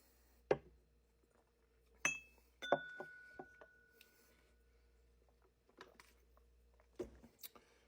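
Drinking glasses clink during a tasting, with a few bright, ringing taps spread across a quiet room, some ringing on briefly after each knock.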